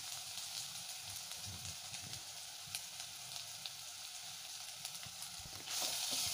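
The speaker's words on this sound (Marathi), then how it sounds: "परतून घ्यायचं आहे सर्व व्यवस्थित" Filling for Jodhpuri mirchi vada sautéing in a hot pan, a steady close sizzle and crackle running throughout, growing slightly brighter and louder near the end.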